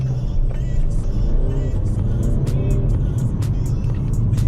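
A Mercedes-Benz A-Class AMG Sport with a 7-speed automatic in sport mode launches hard, its engine roaring loud and steady from inside the cabin with a faint voice in the background.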